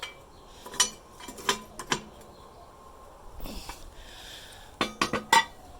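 Metal lid lifter clinking against a hot Dutch oven lid, with several sharp metallic taps and scrapes spaced across the moment, close and fairly quiet.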